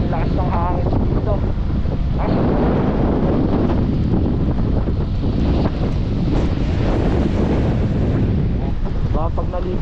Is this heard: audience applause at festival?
no